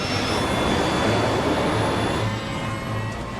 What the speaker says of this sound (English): I feel the thrust of the engine re-engaging full throttle